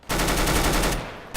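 Rapid R8 Revolver gunfire in CS:GO deathmatch, a loud dense burst of shots lasting about a second before tapering off, with no talk over it.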